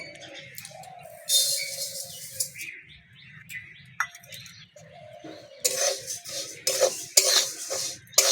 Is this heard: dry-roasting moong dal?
yes